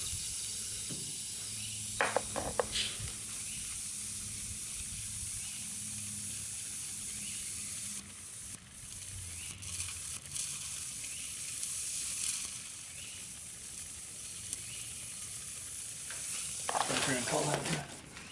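Spray foam sealant hisses steadily into a tire through the open valve stem, a continuous sputtering sizzle with a few louder bursts, running throughout with occasional faint sounds nearby.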